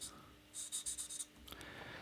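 A pen scratches across paper in quick, faint strokes, a short burst of rhythmic scribbling followed by a couple of separate marks over quiet room tone.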